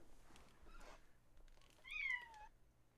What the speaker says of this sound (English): Oh, that was one of the more adorable meows I've heard in a while.